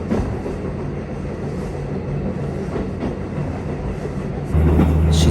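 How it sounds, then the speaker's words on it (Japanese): JR Hokkaido train running through wetland near Nemuro, a steady low rumble of wheels and carriage noise heard from on board, with a deeper hum swelling near the end. "湿地帯のど真ん中を列車が走っていくという光景"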